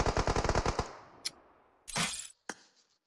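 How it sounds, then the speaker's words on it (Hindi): Rapid automatic gunfire in PUBG Mobile, a quick burst of about ten sharp shots followed by a few single cracks and a short noisy rush, close and loud with no talking. "मैं इस बंदे को मैंने हेड पे शॉट दिए राइट वाले को यार।"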